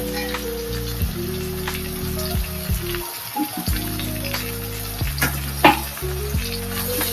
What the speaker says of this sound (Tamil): நல்லா மேஷ் ஆகிற வரைக்கும் வதங்கணுங்க தக்காளி